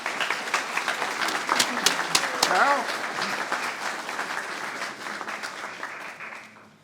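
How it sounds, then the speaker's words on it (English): An audience at a township history night applauds in appreciation, a dense burst of clapping that peaks early then gradually tapers off, with a brief spoken voice breaking through midway. "So let's give her a round of applause in appreciation."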